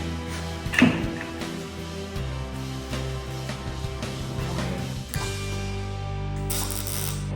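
Ratchet wrench clicking steadily while tightening a bolt on the swapped back door of a 3rd Gen Toyota 4Runner, close and loud with a metallic clunk near the start and continuous pawl rattle.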